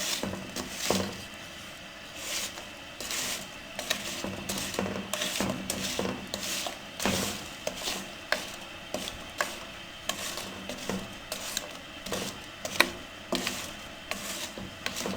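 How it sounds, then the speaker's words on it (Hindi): A spoon stirs mashed jaggery for peanut gajak in a pot, giving repeated scraping, rubbing strokes in a steady, uneven rhythm, close and fairly loud, with no talking. "अब चमचे की मदद से इसको अच्छे से मिक्स कर लें।"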